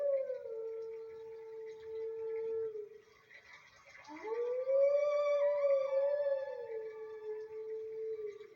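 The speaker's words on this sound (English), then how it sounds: "Our first instance of howling." Wolf howling in the video game Twilight Princess, two long tonal howls with a brief dip between them, clear and sustained against a quiet game backdrop.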